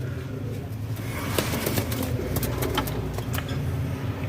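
Fancy pigeons with round feathers coo softly in a low, throaty murmur, faint and at middle distance under a light hum of background noise, with a few brief sharper sounds.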